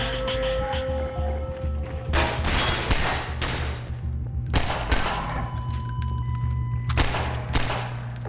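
Rapid gunfire while shooting enemies in Half-Life 2 VR, several loud close bursts of shots spread across the clip over a steady droning background, with no talking.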